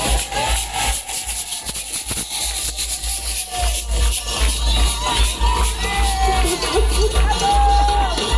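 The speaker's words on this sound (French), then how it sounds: "On les applaudit bien fort." A Guadeloupe carnival crowd applauds and cheers costumed performers in a steady, close wash of clapping, whoops and babble over a low rumble, with voices mixed in throughout.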